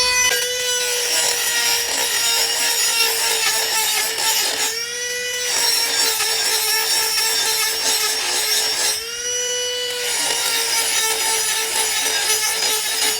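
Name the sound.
cordless grinder cutting an 8 mm iron plate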